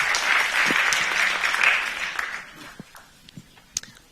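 Audience applause at an opening ceremony as a guest is welcomed on stage, a dense wash of clapping that fades out after a couple of seconds, followed by a few scattered claps and footsteps.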